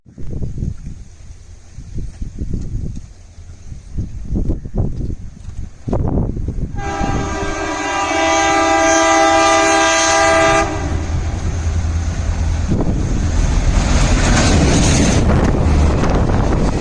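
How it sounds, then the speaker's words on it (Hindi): A Garib Rath train pulls into a station with a long, loud horn blast held for several seconds, followed by the rumble and clatter of the moving coaches; wind buffets the microphone over the steady roar. "भाइयों और बहनों, ट्रेन का अराइवल अच्छा लगा कि नहीं? पहली बार गरीब रथ देखने का मौका मिला।"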